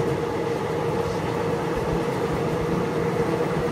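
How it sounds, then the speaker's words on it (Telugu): A train rumbles with steady, dense rolling noise from a running carriage, while another passenger train runs in parallel alongside in cold Telangana at sunrise, no voices. "ఆ ట్రైన్ మన ట్రైన్ అయితే ప్యారలల్గా ముందుకు వస్తున్నాయి"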